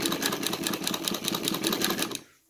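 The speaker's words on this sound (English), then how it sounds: "I have my 3/4 horsepower servo motor with 45 millimeter pulley set at speed of 1500." A Cornely chain stitch embroidery machine driven by a 3/4 horsepower servo motor with a 45 mm pulley at speed 1500 runs loud and close, with a fast steady rhythmic clatter that stops abruptly near the end.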